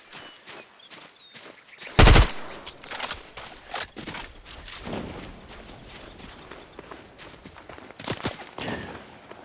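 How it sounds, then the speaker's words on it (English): Video game gunfire crackles in rapid bursts, with a loud close volley near the start, then scattered shots and footsteps continuing, with no speech heard. "Are you trying to shoot at me? You really think you can shoot at me?"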